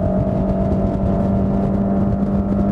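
A Suzuki DF100B outboard, a 1,502 cc inline four-cylinder with double overhead camshafts, drones at high revs on a Focchi 620 boat, a steady loud whine over a rushing low rumble of hull and water.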